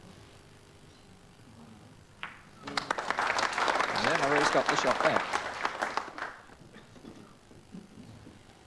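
Crowd applauding at an indoor bowls match, a burst of clapping swelling for a few seconds then fading, with a commentator talking before it.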